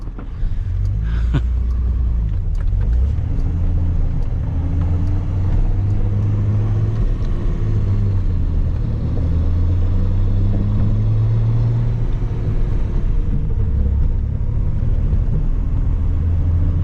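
Datsun 280Z with tuned FAST EFI drives along, its engine a low steady rumble that swells gently and settles, heard up close from inside the car without talk.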